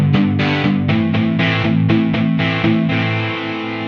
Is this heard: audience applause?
no